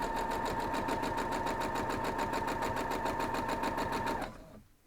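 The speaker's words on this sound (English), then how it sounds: "we're just going to sew these up" A sewing machine joining quilt squares, with a steady, rapid rhythmic whir of stitching at close range that winds down and stops near the end.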